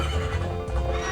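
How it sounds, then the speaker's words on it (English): A horse whinnies loudly and close in the video game Zelda: Majora's Mask, a drawn-out neigh with a faint clip-clop of hooves, and nobody talks over it. "Link ride a horse and smack the horse's booty"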